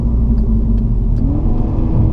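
A VW MK6 GTI accelerates hard in sport mode, its engine rumbling loud and close with rising revs and quick automatic shifts, steady throughout with no talking.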